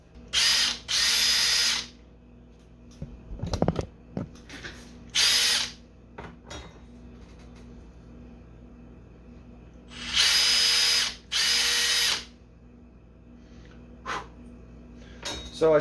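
A small 1/16-inch drill bit bores holes in a wooden mullet glide bait, several short loud whining bursts of the drill separated by quiet pauses and faint handling clicks.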